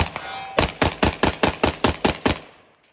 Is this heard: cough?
no